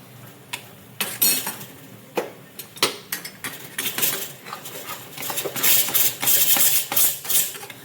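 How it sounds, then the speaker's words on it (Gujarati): Sugar being stirred in a pan until it melts, heard as a busy run of metallic scrapes, clinks and taps from a spoon against the pan, irregular and close, with no talking. "આ ખાંડ ઓગળે ત્યાં સુધી આપણે તેને હલાવી લેશું."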